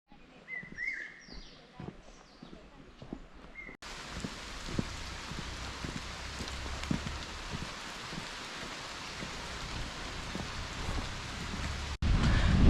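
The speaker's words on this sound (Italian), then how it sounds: "c'è la pioggia in Himalaya" Steady rain falls in the Himalayan hills of the Kalimpong district, a dense hiss of drops on surfaces with a few birds chirping early on, then rising louder and closer for the rest of the clip.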